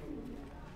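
Racing pigeons cooing softly in a loft during a GPS race event, a low continuous murmur at moderate distance.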